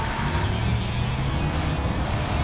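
Pickup truck launching hard in four-wheel drive at the start of a drag race against rival Ford, Chevy and Dodge trucks, a loud, steady engine roar held close throughout with no pause.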